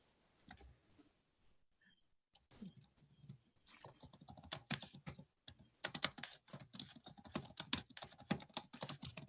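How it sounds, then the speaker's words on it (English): Rapid, uneven clicking of keys on a computer keyboard, sparse at first and then dense and steady, close to the mic with no talking. "I think you've got your mic on, but I can hear you typing."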